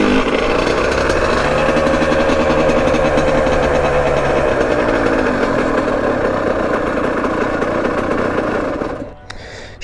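Yamaha YZ85 dirt bike engine revving hard and steadily near at hand, a loud continuous two-stroke drone that holds for about nine seconds and then cuts off abruptly at the end.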